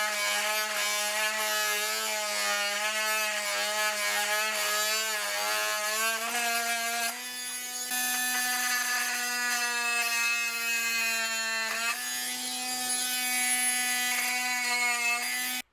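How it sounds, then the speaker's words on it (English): A cordless oscillating multi-tool cuts a notch in wood, giving a loud, steady high buzzing whine that shifts pitch slightly midway as the blade bites, close and continuous. "this is my cordless multi-oscillating cutting tool"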